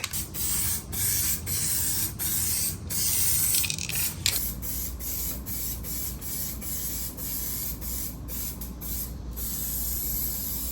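A U-POL aerosol spray can, shaken and then sprayed in auto body work, giving a sustained close hiss with short breaks between bursts.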